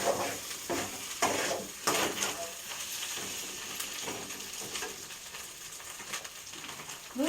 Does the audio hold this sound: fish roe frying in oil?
yes